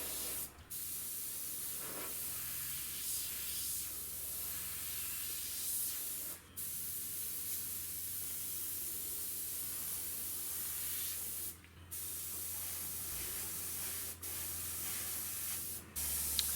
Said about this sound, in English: Now I'm using white Trident airbrush paint.